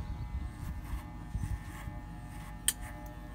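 Electric clippers buzz steadily while shaving a goat's coat, a continuous low hum with a brief click near the end, close by and without speech.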